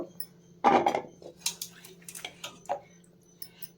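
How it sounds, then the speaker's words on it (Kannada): Washed drumstick vegetable pods are set onto a plate, giving a series of close clinks and knocks against dishware, with one louder clatter followed by lighter taps. "ಈಗ ಇದನ್ನೆಲ್ಲ ತೊಳ್ಕೊಂಡು ಒಂದು ಪ್ಲೇಟ್ಗೆ ತಗೋಬೇಕು"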